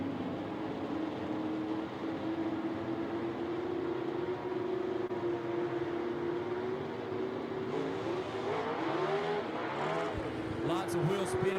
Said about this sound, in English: Lots of wheel spin right there